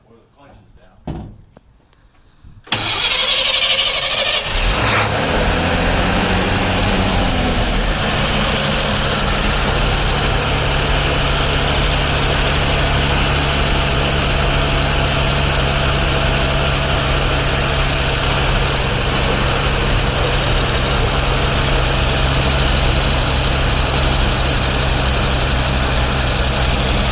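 A 1954 Chevrolet Bullnose pickup engine cold starts after a few quiet clicks, catching with a loud roar that settles into a steady, rough idle, close up and sustained with no voices.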